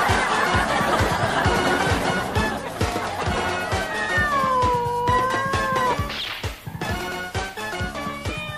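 A cat meowing and caterwauling at night, drawn-out wavering yowls rising and falling over background music, then a few sharper cries near the end.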